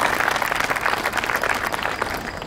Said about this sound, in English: Let's get a big round of applause for all of them before we do an individual introduction.